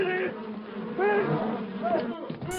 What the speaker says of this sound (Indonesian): pasukan tawon alias lebah yang terusik dengan perkelahian menyerang mereka